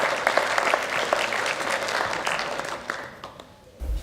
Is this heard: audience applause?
yes